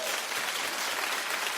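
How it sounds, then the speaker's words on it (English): Brief burst of studio audience clapping on a daytime talk show, dense and even from start to finish with no speech over it. "Clap if you think she's equally as adorable."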